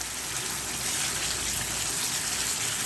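Mutton kali mirch (black pepper) masala bubbles and fries in oil, a steady close sizzling hiss with a dense, even texture and no pauses, with no voices.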